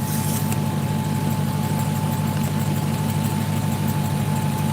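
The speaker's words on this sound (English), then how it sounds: "All I really heard was the supercharger, dude." A supercharged Dodge Hellcat engine runs steadily, heard from the front, with a constant loud low rumble and a thin high supercharger whine held throughout.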